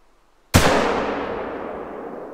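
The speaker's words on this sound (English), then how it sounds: "Wow, nice shot on her, and she's down." A single rifle shot in theHunter: Call of the Wild, fired at a bison, cracks sharply out of silence and leaves a long, fading echo rolling across open terrain.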